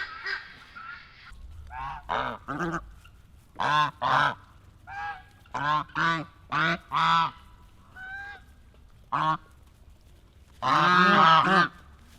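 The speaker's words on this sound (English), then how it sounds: "Had to chase the guineas away. They were just squawking so much for you." Guinea fowl squawking outdoors on a country homestead, a series of loud harsh bursts in uneven rhythm, some in rapid pairs and clusters, with a longer, louder burst near the end.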